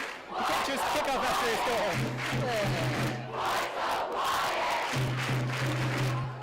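Football stadium crowd at a high school varsity game between the Rapids and the Monarchs, chanting in unison at the opposing fans: loud, rhythmic massed voices in repeated waves, with a brass or horn note sustained in two stretches and a commentator-like voice intermittently.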